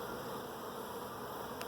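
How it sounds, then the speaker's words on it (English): Honeybees buzz inside a hive box in Emmett, Idaho, a steady, close, continuous hum with no voices over it. "those bees in there are fairly docile in the box"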